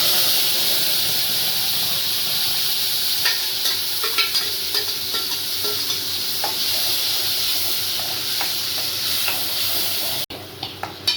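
Ground masala paste goes into hot oil that already has cumin in it for a chickpea curry, setting off a loud, continuous close sizzle and hiss with scattered crackles and stirring scrapes, with no talk.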